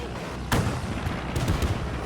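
Distant enemy gunfire crackles in the Men of War 2 battle game, a sharp shot followed by a scattered burst of reports over a low rumbling battlefield backdrop, no voices.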